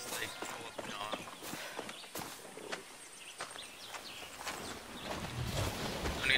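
Horse hooves clip-clop in the Far Cry 6 video game, a faint, uneven patter of hoof strikes with soft bird calls and ambient game noise behind them.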